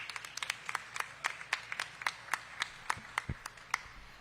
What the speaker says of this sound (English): Big round of applause for Kendra.